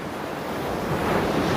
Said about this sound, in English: The wave roared back into the ocean.